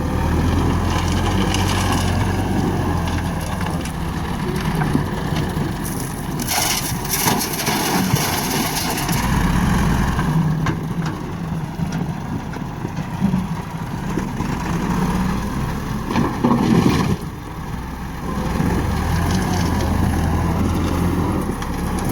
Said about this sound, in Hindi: ट्रैक्टर हैगा 2005 मॉडल MF 385 और देख लो हाले भी स्लिप करने लगे पिछले टायर